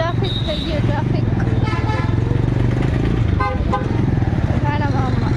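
Dense road traffic in Ranavav rumbles close by with motorcycle engines and repeated short car horn toots over it, while a person talks throughout.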